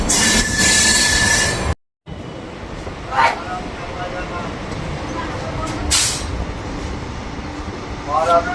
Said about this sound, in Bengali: নিউ জলপাইগুড়ি থেকে হাওড়া ঢুকছে এখন শতাব্দী এক্সপ্রেস